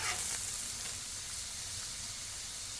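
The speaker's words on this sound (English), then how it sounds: "I'm just doing plain old avocado oil, and I want it a little bit thick so I can make sure that we're getting a good fry on all of these" Food frying in a thick layer of avocado oil on a Blackstone griddle, a steady close sizzle with crackling hiss running evenly throughout, no voices.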